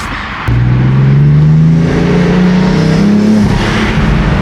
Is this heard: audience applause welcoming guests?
no